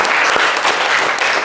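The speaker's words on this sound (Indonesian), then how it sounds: "Tepuk tangan untuk Cahya." Classroom applause for a student named Cahya during a Hindu religion lesson, a short steady burst of clapping from a group of students, fairly close and loud, with no talking over it.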